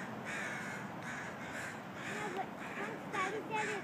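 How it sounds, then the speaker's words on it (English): Crows cawing repeatedly at a bald eagle perched on a light tower in Seattle, harsh calls spaced through the clip, moderately distant and fairly faint, with a person talking underneath. "all the crows are trying to scare it away"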